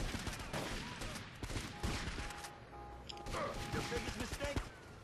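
Rapid gunfire bursts from GTA Vice City Stories on PSP, a shotgun or rifle in a street shootout, crackling densely and continuously over game noise, with a voice talking intermittently.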